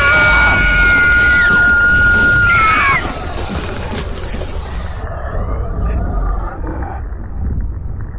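A loud, sustained male yell that strains and breaks off, followed by rumbling noise and fainter movement, as he grips a bat.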